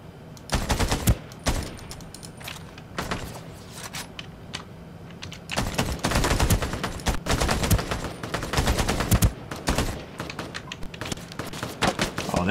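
Rapid automatic gunfire from in-game weapons in the battle royale shooter Ring of Elysium, loud bursts of shots repeating throughout with brief pauses between volleys, close and dominant.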